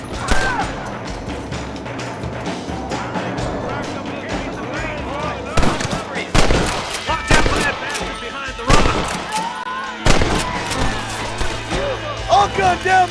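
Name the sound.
gunfire in Red Dead video game shootout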